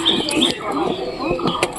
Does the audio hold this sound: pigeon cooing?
yes